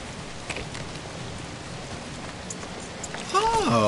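Steady rain in the video game Zombi makes an even, broad hiss throughout, and a voice comes in over it near the end.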